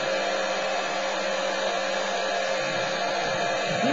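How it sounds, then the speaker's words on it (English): A standard hobby heat gun blows hot air at about 400 degrees while warming a surface during a tank bra install, a steady, close, loud airflow roar that holds evenly throughout with no talking. "This heat gun is a standard hobby heat gun, which is about 400 degrees on the exit."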